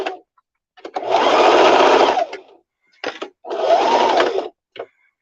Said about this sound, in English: sewing a straight line with this guy folded in half.